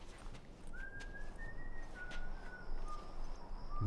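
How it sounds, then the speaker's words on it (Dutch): In The Last of Us, a faint, steady human whistle drifts over a quiet background, holding one thin tone and then sliding slightly lower across several seconds. "Iemand is aan het fluiten."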